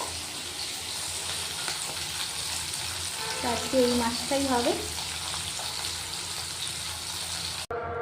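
Fish fries in a pan of hot oil until crispy, a steady broadband sizzle running throughout, with someone speaking briefly over it partway through.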